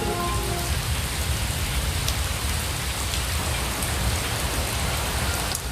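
Steady rain falls outside a stone tower in the Himalayas, a dense continuous patter at even loudness throughout with no pauses.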